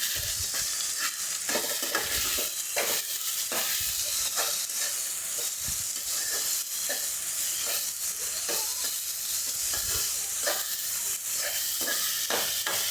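Cluster beans are stirred with salt and turmeric in a pan, giving a steady run of scraping spoon strokes over a soft continuous sizzle, close and moderately loud, with no talking.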